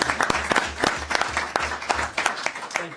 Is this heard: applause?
yes